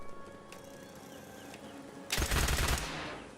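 Rapid automatic weapon fire in the Fallout 4 video game: a dense, loud burst of shots erupting midway and trailing off into an echoing tail, preceded by quieter ambient game tones.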